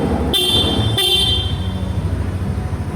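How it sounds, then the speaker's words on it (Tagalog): A Yamaha Lexi 155 scooter horn gives two loud, close, steady toots, the first short and the second held longer, with engine idle rumbling underneath. "Nga pala, yung kanyang busina, nalimutan na natin. Okay, solid. Lakas na busina."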